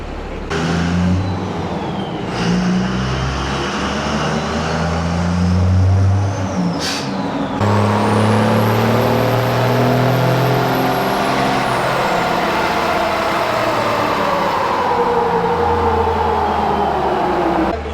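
The RatBack car's engine revs hard on a dyno, a loud continuous roar with rising and falling pitch sweeps and a brief sharp burst partway through, with no talking over it.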